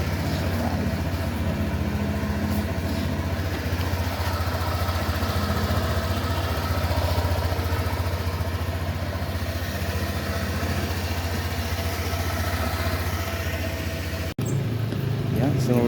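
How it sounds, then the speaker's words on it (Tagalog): A motorcycle engine idles steadily for a long stretch, a continuous low rumble that cuts out briefly near the end, with a voice talking over it. "So habang buhay nga yung ating makina, medyo inasan muna natin ng mauntingan."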